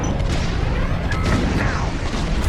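Bombs going off in the Star Wars Squadrons space combat game, a continuous loud rumbling roar of blasts and engine noise, dense and close throughout.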